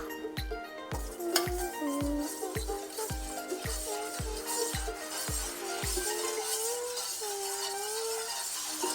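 A spoon scraping and knocking against a pan while food is stirred during home cooking, a regular series of about a dozen sharp clinks at a steady rhythm, close and clear over faint background music.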